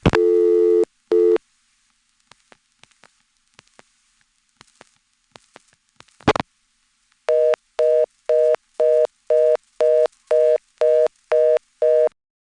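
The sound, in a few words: reorder tone from a GTE/Leich CXP-5 crosspoint telephone switch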